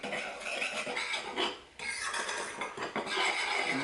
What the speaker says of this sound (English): So now I'm just going to give this a good stir together.